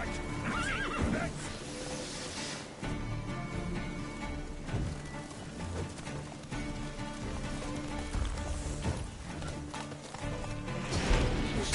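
A horse in the video game Witcher 3 whinnies and neighs over clip-clopping hooves and background game sounds, the calls fairly prominent across a steady ambience.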